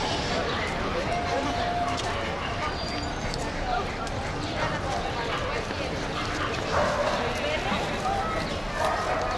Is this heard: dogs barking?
yes